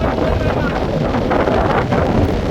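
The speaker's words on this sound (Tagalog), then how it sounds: "Naririnig niyo ba yung hampas ng hangin? Sobrang lakas, 'di ba?" Strong typhoon wind roars continuously and loudly, buffeting the microphone in heavy, steady gusts that drown out most other sound, with a voice faintly present beneath.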